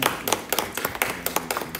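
An audience applauds at the Black History Festival 2022 media launch, producing a brisk series of sharp, fairly evenly spaced hand claps with a close, clear quality.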